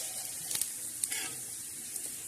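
Coconut sizzles and fries in hot oil with black masala for a village-style chicken curry, a steady bright hiss with a few soft pops and stirring clicks, close and continuous with no talking.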